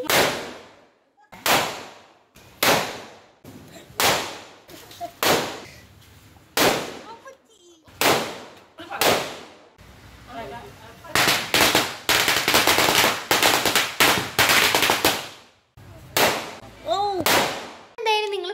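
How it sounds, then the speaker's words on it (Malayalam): Vishu festival firecrackers burst one after another in sharp, loud bangs, spaced apart at first, then a rapid crackling string of explosions, followed by a few more single blasts. "പടക്കം പൊട്ടിക്കുന്ന സംഭവമൊക്കെ കണ്ടിട്ടുണ്ടാവും"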